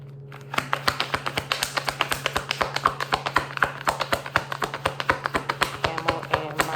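Tarot cards being shuffled by hand, a quick run of crisp, rapid taps and flutters repeating in a fast irregular rhythm, close to the listener and heard alone without talk.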